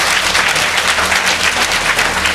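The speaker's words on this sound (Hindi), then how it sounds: "जोरदार ताली बजाइए यीशु के लिए।" A church congregation at a healing prayer service claps loudly for Jesus, a dense and continuous burst of many hands applauding up close throughout.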